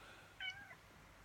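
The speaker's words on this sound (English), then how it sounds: "That's not me meowing, by the way," A pet cat gives a single short, thin meow in a quiet indoor room, fairly faint and lasting under half a second.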